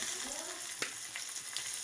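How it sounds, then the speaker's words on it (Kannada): Green chillies and asafoetida tempering in hot oil, a faint, continuous crackling sizzle with a few sharp pops, no voices. "ಒಂದು 3 ಹಸಿಮೆಣಸಿನ್ಕಾಯಿ, ಹಾಗೆ ಒಂದು ಸ್ವಲ್ಪ ಇಂಗು."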